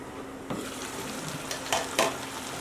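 Potatoes in a pan with a little water are stirred before the lid goes on: a steady close sizzle with a few scraping spoon strokes near the end, no voices.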